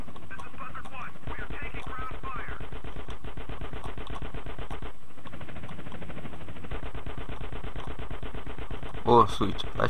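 Steady rapid gunfire in GTA San Andreas on PS2, a continuous rattling machine-gun stream with a helicopter-like drone beneath, loud and unbroken, with a voice talking over it.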